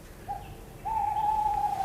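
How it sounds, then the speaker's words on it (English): An owl hoots from up in the gables, one short note followed by a longer sustained hoot, clear and fairly close over a quiet background. "Oh, that's the old owl."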